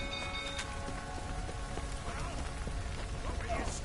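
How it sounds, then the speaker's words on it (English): Steady rainfall in The Witcher 3: Wild Hunt, a soft continuous patter with scattered drop hits, heard faintly throughout alongside faint game ambience. "Looks like rain."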